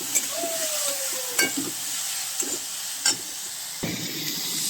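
Food fries in a pan with a steady hiss of sizzling oil, broken by a few sharp clinks and scrapes of stirring.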